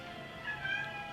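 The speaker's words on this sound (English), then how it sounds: "Don't mind the kitty." A cat meows indoors, a faint drawn-out call with a rising and falling pitch, alone over a quiet room background.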